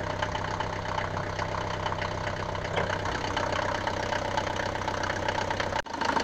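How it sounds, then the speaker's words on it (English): A Mercedes-Benz W124 200 diesel engine idling with the bonnet open, a steady, rough, clattering drone that holds constant and close, briefly dipping near the end, with no talking. "the first step is to start the engine"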